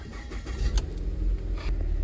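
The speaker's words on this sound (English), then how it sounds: "So I'm gonna start the car." A 2013 Ford Escape's engine cranking and catching, close and fairly loud: a low rumbling churn with a few sharp clicks, settling into a steady idle.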